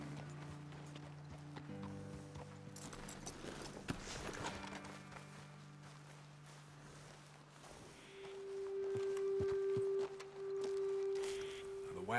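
Horses in the video game Red Dead Redemption 2 walk with soft, irregular hoof clops, mixed with game ambience and a rising tonal hum near the end.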